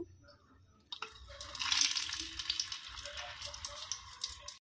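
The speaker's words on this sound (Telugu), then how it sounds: "ఇదే ఆయిల్లో మిగిలిన క్యాప్సికమ్ కూడా పెట్టేసుకుందాం అండి" Stuffed capsicum frying in hot oil, a faint crackle that swells into a steady broadband sizzle with small pops, up close and with no talking.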